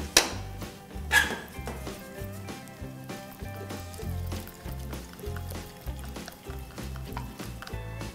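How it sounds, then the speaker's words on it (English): A whisk rattles and taps against a bowl while stirring a thick ginger garlic batter for honey chilli broccoli, a steady close-up scraping rhythm with no talking. "You can use a whisk."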